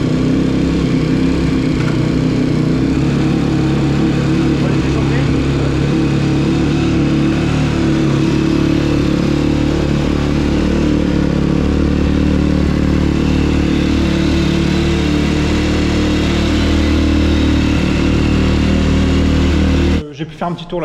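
A YCF pit bike motorcycle engine runs loud and close in a garage, holding a rough, steady idle with slight rises for most of the time before cutting off abruptly.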